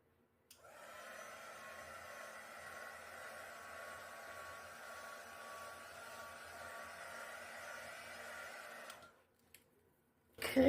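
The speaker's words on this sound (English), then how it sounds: "let me just hit it with a heat gun quick." Heat gun blowing over a resin ring pour, a steady close airy whoosh with a faint motor whine that runs for about eight seconds, then cuts off.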